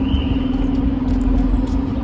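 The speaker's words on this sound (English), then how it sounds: "You can hear the bus going there" Bus driving along a guided busway near Cambridge North, a steady loud engine hum and road rumble heard up close without pauses.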